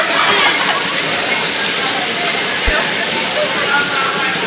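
Steady broadband roar of rushing water at Tungtong Falls, continuous and close, with one low thump partway through and no clear talk.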